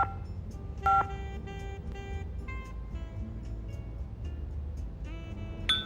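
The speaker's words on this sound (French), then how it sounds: "Attends, je l'appelle." A telephone number is being dialed: a quick series of distinct keypad tones beeps in an irregular rhythm over a low background hum, close and clear.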